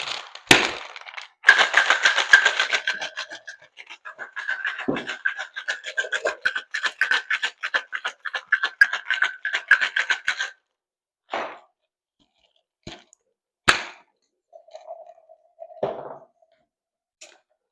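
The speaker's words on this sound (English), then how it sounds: "grab some ice and give it a good shake" Ice rattling hard inside a cocktail shaker during gin cocktail making, a fast close clatter for about ten seconds, followed by a few separate knocks and clinks.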